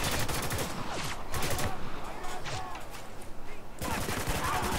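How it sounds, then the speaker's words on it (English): Gunfire in the shooter video game Spec Ops: The Line, dense bursts of shots and rattling fire filling the whole clip, with a short lull near the end before heavy firing resumes, under occasional speech. "He's shooting him."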